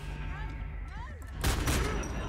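Burst of gunfire from a newly picked-up gun in the shooter game Homefront: The Revolution, a loud clattering volley starting partway through after quieter ambient game sound.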